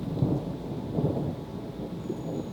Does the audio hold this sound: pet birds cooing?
no